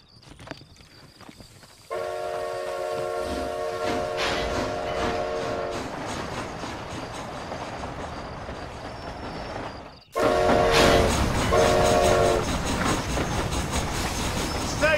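Steam train in Red Dead Redemption Undead Nightmare rumbles steadily and loudly with chugging and rattling wagons, while a whistle blows twice in long tones, the second time louder after a sudden jump in volume; no talk.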